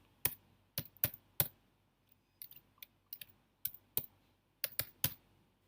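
Keys on a computer keyboard clatter in short bursts of quick taps while a short Python line is typed, crisp and close, with brief gaps between the bursts.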